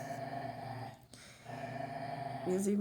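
Small pet dogs growl steadily, a low continuous rumble close by that dips briefly in the middle, ending with a higher whine.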